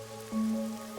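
Steady rainfall from the video game Rain Code, a soft, even hiss beneath a sustained musical drone with a brief swell partway through.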